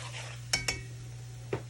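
Flour being stirred into meat drippings for country gravy in a pan set around 350 to 375, a low sizzle with three quick scraping knocks of a utensil against the pan, close and faint.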